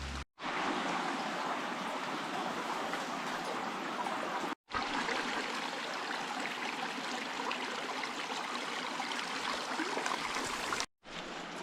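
Steady rushing stream water, loud and continuous for several seconds while a bottle is filled on a remote road, broken by two brief silent gaps.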